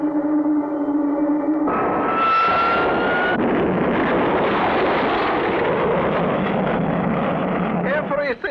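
A cartoon rocket's first stage drops away during a launch: a steady rocket roar with a rising whistle, then a broad rushing blast that swells and holds loud for several seconds, ending in a brief sputter.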